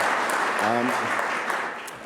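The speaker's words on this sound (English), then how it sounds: "so a round of applause for them" An audience at a Gaelic Nova Scotia Month launch event gives a round of applause, a dense, steady wash of many hands clapping at moderate volume, with a brief voice heard over it.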